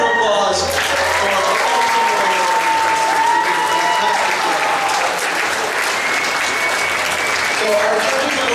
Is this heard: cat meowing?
no